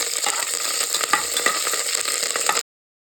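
Loud, close sizzling of curry leaves frying in hot oil with garlic and green chillies, with stirring sounds throughout, cutting off abruptly before the end.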